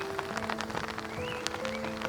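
Light rain patters steadily outdoors, a soft continuous hiss of drops on surfaces with a few faint tonal sounds in the background.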